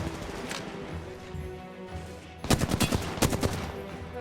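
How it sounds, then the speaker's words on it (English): Bursts of gunfire in the battle royale video game Apex Legends, first as a steady clatter of distant shots, then close, loud volleys of rapid automatic fire in uneven clusters. "With gunfire going on all around us"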